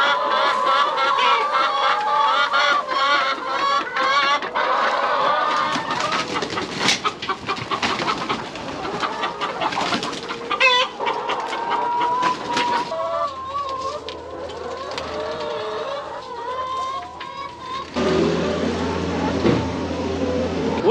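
A new batch of farm chickens clucking and chattering around someone walking among them during morning chores, a busy, continuous flock close by with a voice occasionally speaking over it.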